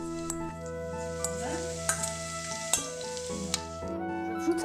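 Vegetables frying in deep olive oil in a pot, a steady bright sizzle with a low hum and a few sharp utensil knocks, with no talking.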